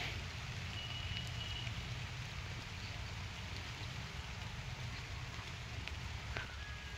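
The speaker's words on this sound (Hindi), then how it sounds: "बारिश भी तेज हो गई।" Heavy rain falls outdoors in a steady, dense hiss, fairly quiet and continuous, with a few faint high taps and drips on top and no speech.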